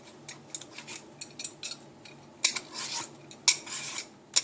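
A pumpkin is peeled by hand for a roast vegetable salad. Short, crisp scraping strokes repeat irregularly up close, with sharper, louder strokes toward the end.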